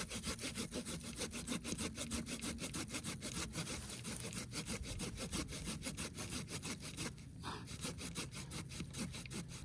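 Small hand saw cutting through a tree trunk outdoors, fast rhythmic back-and-forth rasping strokes, close and steady, with a brief pause about three quarters of the way through.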